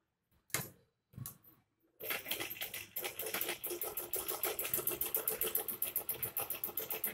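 A sewing machine stitches kurti pieces in a fast, even rhythm of close mechanical thumps after two short bursts and a moment of quiet.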